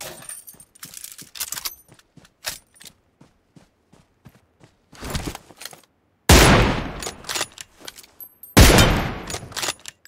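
Gunfire in PUBG Mobile: scattered single shots and short bursts, then two loud, dense volleys of rapid automatic fire, close and harsh, with quiet gaps and no talking.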